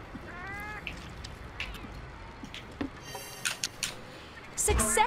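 Palico cat companions from the video game Monster Hunter World meow in short, faint tonal cries, mixed with game sounds and a brief louder burst near the end, with people talking around them.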